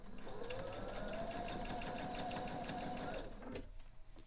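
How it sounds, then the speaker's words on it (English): A sewing machine stitches fabric slowly and steadily under light tension, with a close, even mechanical whir that runs for about three seconds and then stops. "I'm just giving it a little bit of tension and sewing slowly"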